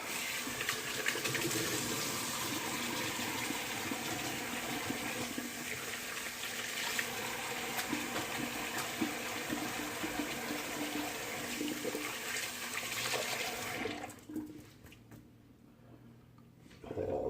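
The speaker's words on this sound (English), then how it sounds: "I'm gonna do a quick cold water rinse, see what I need for cleanup." Cold tap water runs steadily in a strong gush for a long stretch, rinsing a brush, then cuts off, leaving quiet dripping.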